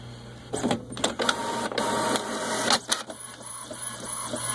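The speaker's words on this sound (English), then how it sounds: "Okay, now it's printing." An HP ENVY 4501 inkjet all-in-one printer runs a print job, with whirring carriage passes, clicks and paper-feed clatter, close and moderately loud, alone without speech.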